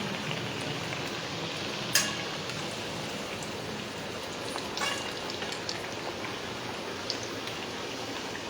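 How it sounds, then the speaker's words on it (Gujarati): Farsi puri deep-frying in hot oil on a medium flame, a steady soft sizzle and bubbling throughout with a few faint clicks, quiet and continuous. "એક પછી એક ધીમે ધીમે તળવાની છે મીડિયમ આંચ પર"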